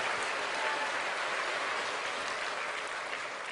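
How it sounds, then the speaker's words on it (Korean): Church congregation applauding during a Sunday sermon, a dense, sustained wash of clapping from many hands that holds steady and fades slightly at the end. "하나님 앞에 감사 박수합니다."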